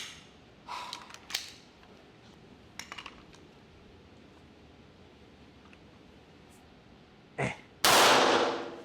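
A Hi-Point YC-380 pistol fires its last round of the day: a few sharp clanks and pops early on, then a loud close report near the end with a broad noisy burst trailing after it.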